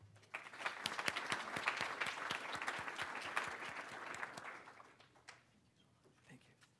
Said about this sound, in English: Let's give a round of applause for Dr. Lehmann.